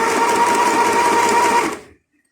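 Sewing machine stitching cloth, a steady fast whirring hum for under two seconds that stops abruptly into silence.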